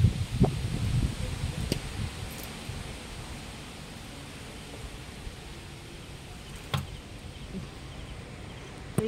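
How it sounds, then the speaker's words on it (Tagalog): Strong wind sweeping through leaves and trees during stormy weather after heavy rain, a steady broadband rush filling the whole clip with a few sharp gusty bumps and knocks near the start. "Malakas ang hangin."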